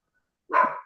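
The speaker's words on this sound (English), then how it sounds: "Hey, no barking." A single sharp bark from a dog rings out after a moment of silence, fairly close.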